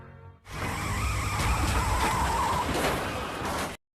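A police car carrying prisoners skids in a staged crash in an Indian action film, a loud burst of tire screech and scraping noise lasting a few seconds before stopping dead.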